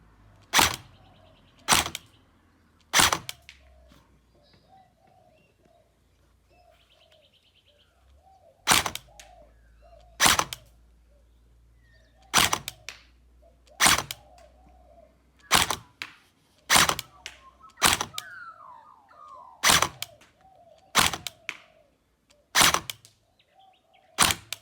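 An AKA74-MS airsoft rifle fires single semi-auto shots, each a sharp, close snap, spaced irregularly over quiet background with a faint low hum.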